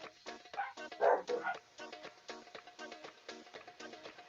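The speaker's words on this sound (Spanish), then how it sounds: "Mientras pueden escuchar como mi perro reclama," Small dog barking indoors in rapid repeated yips and whiny barks, close and fairly loud, continuing in bursts throughout with no talk.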